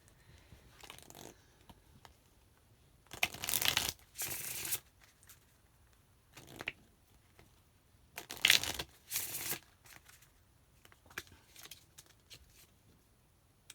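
Oracle cards being shuffled, several bursts of crisp riffling and flapping card noise separated by quiet pauses, close up, no talking.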